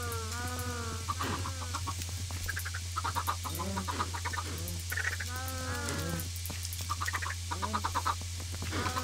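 Chickens in the Minecraft video game clucking repeatedly, with rapid overlapping bird calls close by over a steady background hum.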